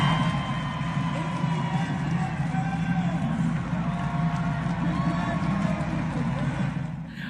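An arena crowd at a Winnipeg Jets hockey game applauds and cheers a couple's engagement, a dense, steady roar of clapping and crowd noise that holds loud throughout before easing slightly at the end.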